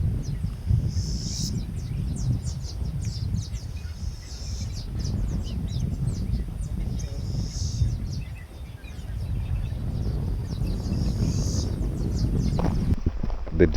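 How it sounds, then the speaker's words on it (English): A swamp warbler sings repeated short, high phrases throughout, fairly faint against a constant low wind and outdoor hum in Turkana County, Kenya, with a brief lull midway. "Then there's a swamp warbler."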